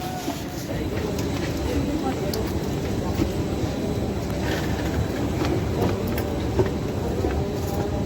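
Metro train running through the tunnel beneath the Hooghly river, a steady low rumble and rattle of carriages in motion heard from inside, with passengers talking over the continuous noise.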